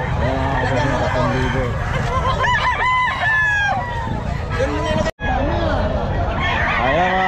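Hennie roosters crow repeatedly at a busy pet market, several overlapping cock-a-doodle-doo calls close by over constant crowd chatter and background noise.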